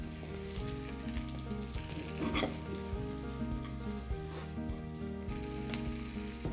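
Chopped onion and garlic sizzle and fry in a pan while being stirred, a continuous close crackle under background music.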